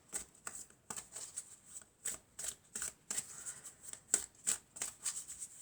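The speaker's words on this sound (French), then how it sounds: "on va prendre quelques cartes de mon oracle" Oracle cards are shuffled close to the microphone in quiet, rhythmic riffles and soft slaps, about two per second, with no talking.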